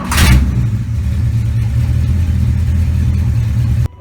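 Car engine with a Holley 780 cfm four-barrel carburetor, model 3310-1, cranks and catches, then runs at a loud, steady rumbling idle close by before cutting off abruptly near the end.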